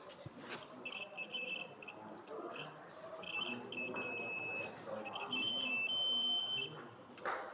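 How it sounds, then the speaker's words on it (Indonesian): A buzzer in a homemade classroom alarm device gives thin, high intermittent beeping tones that waver in pitch, fairly faint over a noisy room background. "memberikan sinyal kepada buzzernya dan membuat buzzernya berbunyi"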